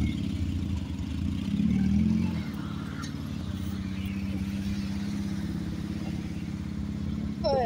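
A motorcycle engine idles and rumbles close by, briefly swelling louder as it pulls away, then settles into a steady low drone.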